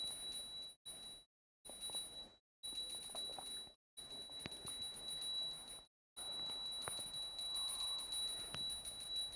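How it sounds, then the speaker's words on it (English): A hand bell rung during an aarti offering to Swamiji keeps up a bright, steady high ringing, broken by several short silent gaps, with faint background stirring underneath. "please ring the bell as you do so"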